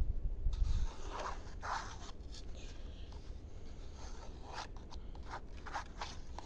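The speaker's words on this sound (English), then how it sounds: "I think I'm just going to draw, like, random lines. To add some texture to this right here." Pencil scratching random texture lines across paper while drawing a tree, a steady dry rubbing scrape with repeated short strokes, close and quiet, no talking.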